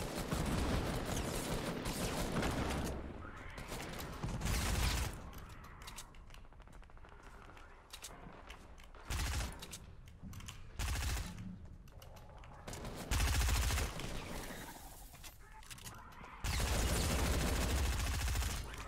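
Rapid bursts of gunfire from the Fortnite video game, loud repeated volleys and single shots separated by short quieter gaps.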